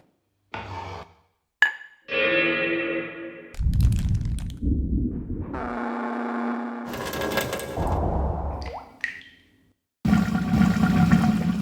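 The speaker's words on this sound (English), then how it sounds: "This one just sounds like someone's toilet" A synthesized sound effect from a film-scoring sample library that resembles a toilet flush: a sequence of separate swelling, gurgling, watery bursts with rushing noise, ending in a loud churning surge, no talking.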